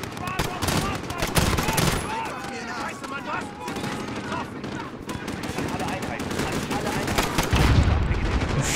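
Dense gunfire in Call of Duty Modern Warfare, rapid machine-gun bursts and scattered shots crackling continuously, loud and close throughout.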